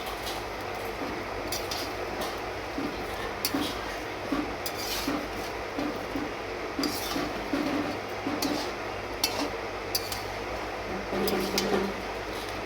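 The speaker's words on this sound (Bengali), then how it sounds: "আর এর মধ্যে আমি ভেজে রাখা আলুগুলোও দিয়ে দিলাম" Fried potatoes going back into a pan of cooking vegetables, heard as repeated close clinks and scrapes of a utensil against the pan over a low background hum.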